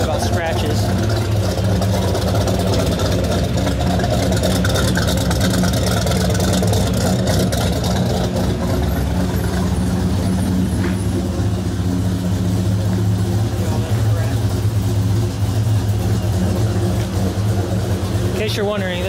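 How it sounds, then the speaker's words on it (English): A 1997 Dodge Viper GTS engine idles during warmup, a steady, loud, deep rumble that runs unbroken throughout, with speech over the top. "this is a 1997 Dodge Viper GTS"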